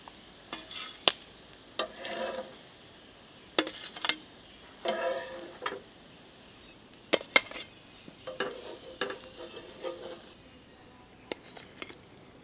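Corn and spinach tikki shallow-frying in a pan, with repeated clinks and scrapes of a metal utensil against the pan over a faint sizzle, coming in short irregular bursts.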